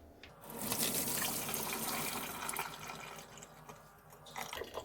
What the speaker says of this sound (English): now that our potatoes are done, we're going to go ahead and strain them